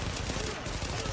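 Dense, rapid gunfire from the video game The Division beta rattles steadily through the short stretch, loud and continuous like sustained automatic fire.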